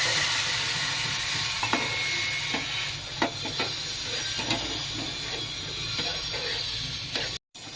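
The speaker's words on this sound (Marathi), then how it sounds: "यामध्ये आपण ड्रायफ्रुट्स भाजून घेऊया" Dry fruits rattle and scrape in a pan as they roast for sev kheer, under a steady sizzling hiss, with occasional clicks of a spoon stirring, close and continuous.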